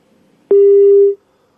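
A single steady telephone tone sounds after a brief click, marking a call cut off during a phone report on a mini truck accident in Kandhamal; it holds for about half a second, loud and alone, then stops.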